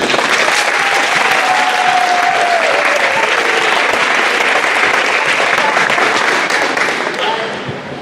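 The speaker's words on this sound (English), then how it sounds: "I want to give all the adults in here a quick round of applause" Sustained applause from a school audience of students honoring the adults at a middle school awards ceremony, steady and loud clapping filling the room throughout with a slight taper at the end.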